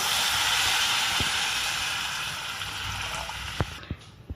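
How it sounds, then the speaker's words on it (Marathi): Water is poured into a black iron kadhai of spicy pavta (field bean) aamti curry, making a steady rushing hiss for a few seconds before it tapers off, followed by faint clinks. "आता आपण त्यामध्ये पाणी घालून घेऊया"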